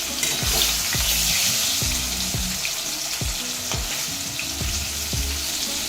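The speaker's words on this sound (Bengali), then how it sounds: "এক পিঠ ভাজা হয়ে গেলে এরকম উল্টে পাল্টে দিয়ে আরেকটা পিঠও কিন্তু ভেজে নিতে হবে" Green banana kofta balls fry steadily in hot oil, a constant close sizzle broken by repeated soft knocks as the balls are turned in the pan.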